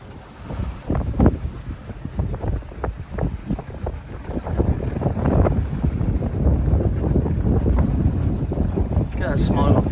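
A sailboat under sail in a Greek marine park, with gusting wind buffeting the microphone over the wash of water against the hull, rising and falling irregularly as the breeze picks up.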